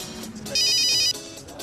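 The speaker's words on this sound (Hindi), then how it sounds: "मेरा फोन है यार।" A mobile phone ringtone plays a short, bright electronic melody of repeating high tones, loud and close, over faint background noise.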